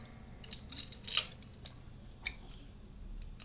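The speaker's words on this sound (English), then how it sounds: "I'm going to just cut off the strings here." Guitar strings are snipped with a string cutter, giving a few sharp, quiet metallic clicks spaced apart against a low background hum.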